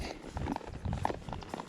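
A palomino mare's hooves clip-clop steadily on a dirt trail as she is ridden in a spade bit, soft and fairly close, in an even walking rhythm over quiet outdoor ambience.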